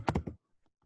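A short burst of typing on a computer keyboard, three quick close key clacks and then a few faint taps trailing off.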